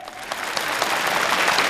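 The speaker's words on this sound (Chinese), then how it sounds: "掌声有请" Audience at a 2009 Spring Festival gala for farmers applauding, a dense, steady burst of clapping that holds for the whole short moment.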